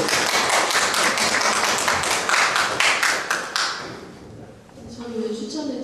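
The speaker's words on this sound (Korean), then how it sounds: "다시 한번 박수 부탁드릴게요" An audience at a Taizé prayer gathering in a Seongsu-dong Catholic church claps heartily for about four seconds, then the applause thins and fades as a voice begins speaking.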